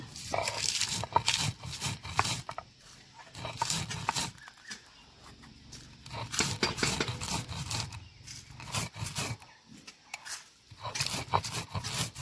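Fried coriander, cumin and fennel seeds are ground by hand on a shil-nora grinding stone for cauliflower pickle, giving repeated rough scraping strokes in an uneven back-and-forth rhythm, close and moderately loud.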